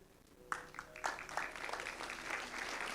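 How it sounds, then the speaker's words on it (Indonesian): Audience applause at a youth church session, starting abruptly and swelling into a steady crowd of clapping that continues to the end. "tepuk tangan"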